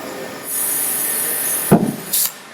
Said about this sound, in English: take your air compressor and put it on the edge of the valve stem and go full there